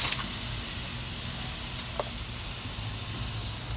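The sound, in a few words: marinated meat sizzling as fat burns off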